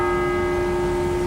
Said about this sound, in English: Church bell or something just went off.